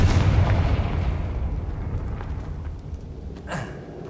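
A Confringo blasting spell explodes in Hogwarts Legacy, opening with a loud, rumbling low boom that slowly decays, followed by a smaller sharp crack near the end.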